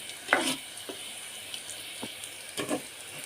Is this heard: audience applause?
no